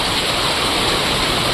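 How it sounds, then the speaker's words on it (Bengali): Heavy downpour during a thunderstorm, a dense, steady roar of rain that fills the whole clip without a break, loud and close, with no voices. "দেখুন বন্ধুরা, এত জোরে বৃষ্টি হচ্ছে"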